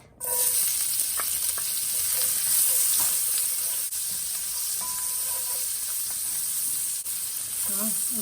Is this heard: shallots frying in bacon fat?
yes